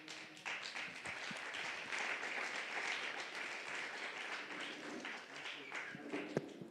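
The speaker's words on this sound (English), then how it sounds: "I just want you to know that applause is because what you said spoke to people" Applause from a church congregation at a Sunday service at Trinity Vineyard Church in Nakuru: steady, dense clapping that fills the room throughout, fairly close and even in loudness.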